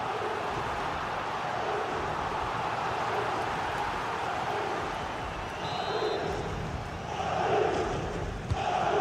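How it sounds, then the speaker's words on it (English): Stadium crowd noise from the football game FC 26 during a Real Madrid vs Barcelona El Clásico match: a steady broad roar of supporters with swells of cheering, continuous and fairly loud throughout. "the crowd are looking to really give the players a boost"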